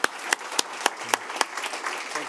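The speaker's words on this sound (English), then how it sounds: "If we can just give a warm round of applause to Henrik." An audience at a London business conference applauds a speaker, a thin scattering of distinct claps at a slow uneven rhythm, fairly close, with a murmur between.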